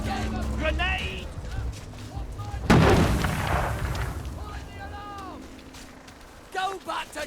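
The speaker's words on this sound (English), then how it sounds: "Grenade!" In the video game We Happy Few, a grenade explodes with a sudden loud boom partway through and then a decaying rumble. Shouting voices and scattered game sounds come before and after the blast.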